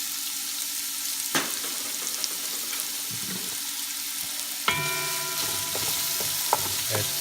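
Onions frying in oil in a pan for corn soup produce a soft, steady sizzle that turns louder and more crackling when a clatter drops more in midway, with faint stirring knocks.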